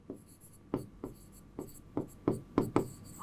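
Chalk or marker strokes writing chemistry notes on a classroom board, a series of short scraping taps in an uneven rhythm, close and distinct with no talking.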